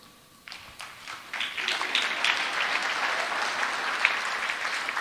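A church congregation applauds during a sermon, scattered claps building into sustained, moderately distant clapping across the room.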